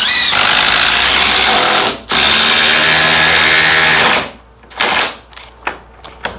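A DeWalt DCF860 impact wrench hammers loudly and continuously for about four seconds while loosening a nut, breaks off briefly, then resumes before trailing into several short, sharp bursts as the nut spins free.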